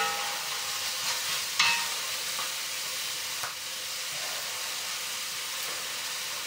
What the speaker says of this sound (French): Pendant que les oignons sont en train de réduire